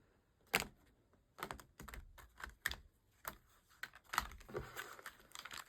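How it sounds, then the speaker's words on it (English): A deck of tarot cards is shuffled in quick, irregular bursts of papery slaps and riffles, close and fairly faint, with no talking. "The chaotic shuffling just got brought to a new level."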